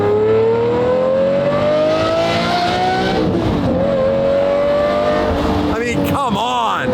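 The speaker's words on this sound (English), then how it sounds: "listen to that Lamborghini V12." A loud, high-revving Lamborghini V12 engine wails and climbs in pitch, with sharp gear changes near the end, while a voice talks over it.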